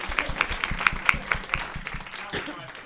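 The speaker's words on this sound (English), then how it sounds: "I'm gonna give that one an applause" A handful of people clapping in a small room during a casual talk show, a short burst of distinct claps with voices talking over them.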